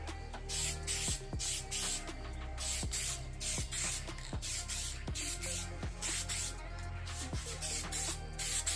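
Spray paint going onto a Ford F150 in bursts, a dozen or so short hissing blasts in a steady rhythm, close and fairly loud with brief gaps between passes.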